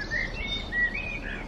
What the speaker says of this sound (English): Birdsong is amazing today.